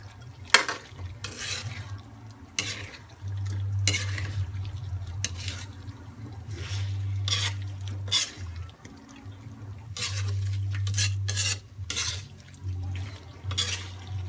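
Chicken and pork mechado is stirred in a pot. Wet, sloshing scrapes come in repeated strokes with short pauses between them, heard close up over a low steady hum.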